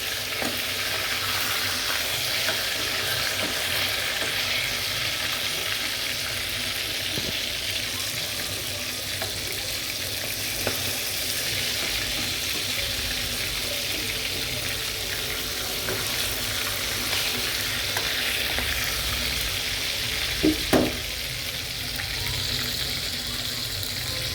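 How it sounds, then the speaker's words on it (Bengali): Steady, crackling sizzle of chital fish kofta balls frying in oil, continuous and close, with a few soft knocks near the end. "এটা হালকা জলে ভাজতে হবে"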